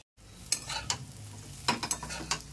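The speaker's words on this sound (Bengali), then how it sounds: "আর এদিকে আমার ডালটা ফ্রাই হচ্ছে।" Lentils (dal) frying in a pan, heard as a low background hum and quiet sizzle under a series of distinct spoon scrapes and clinks against the pan.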